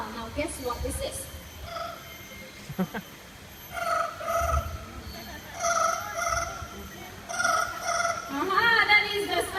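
A parrot at a bird park show mimics a ringing telephone, giving short repeated electronic-sounding trills in bursts, heard at moderate distance over crowd murmur and background chatter.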